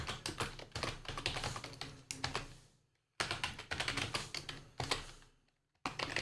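Rapid keystrokes on a computer keyboard while a folder path is entered, a steady close clatter in two bursts separated by brief pauses, with no talk.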